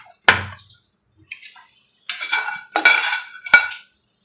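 Peanuts being roasted in a pan make a few sharp metallic clinks and rattling scrapes of a utensil against the pan, in short separated bursts with quiet gaps.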